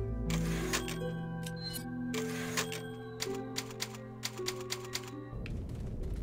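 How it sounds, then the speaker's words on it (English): Rapid typewriter key clacks from the Resident Evil 4 save typewriter, struck in quick bursts over sustained tonal game music, with several sharp strikes near the end before the music fades into a low drone. "our final typewriter is right here."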